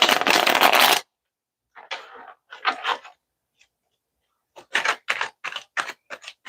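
A deck of tarot cards is shuffled, first in one dense riffle, then in several short bursts of flicking and tapping, close and crisp with silent gaps between.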